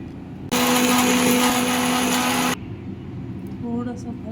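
A mixer grinder whirs loudly as it grinds roasted spices in a home kitchen, a steady high-pitched motor drone lasting about two seconds before cutting off abruptly, followed by quiet room noise.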